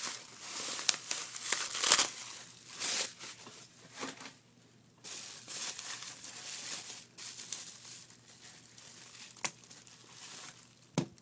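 Bubble wrap packaging is peeled and crinkled off a Rubik's cube during an unboxing, a steady close rustle with sharper crackles and tearing bursts throughout.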